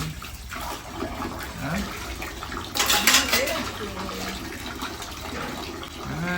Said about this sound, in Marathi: अभि बर्तन मांजना चालू आहे इनका